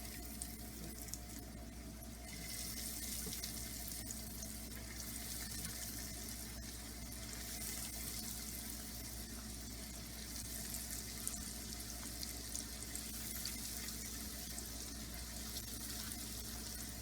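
Cheetos-coated mozzarella cheese sticks fry in hot oil, giving a steady, dense bubbling sizzle that holds evenly throughout with faint crackles on top and no talking.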